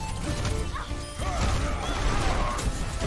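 A loud in-game shatter effect, a sharp crashing burst with glassy, mechanical ringing tones layered over dense background game noise for about three seconds.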